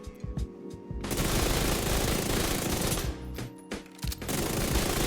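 Rapid automatic gunfire from the Ouroboros build in a video game: dense sustained bursts of shots, loud and close, broken by brief pauses between strings of fire.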